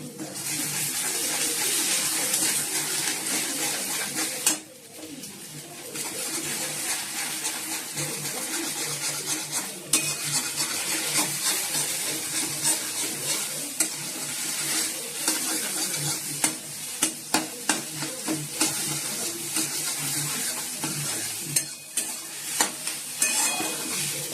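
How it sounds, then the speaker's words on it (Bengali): Potato pieces fry in a pan with a steady, loud sizzle that runs throughout, broken by frequent clicks and scrapes of stirring close by, with no talking. "আলু একটু ভেজে নিচ্ছি, দিলাম মধ্যে"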